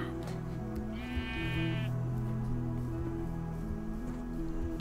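A single Minecraft sheep bleats once, a short wavering baa heard over steady background music on a farm.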